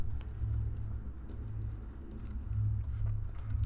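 Quiet, close keystrokes on a computer keyboard come in an uneven patter over a low background hum, and no one speaks.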